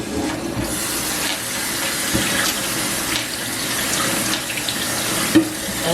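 Cold tap water runs in a steady, loud rush over a newly sealed jar of home-canned potatoes, continuous and close with a small clunk near the end.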